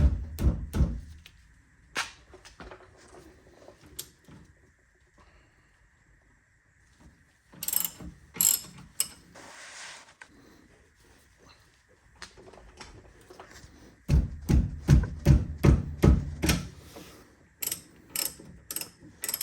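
A ratchet wrench fitted with an E18 socket loosens tight brake bracket bolts on a Tesla Model 3 in quick bursts of rapid clicking, separated by pauses and a short scraping sound, all close up.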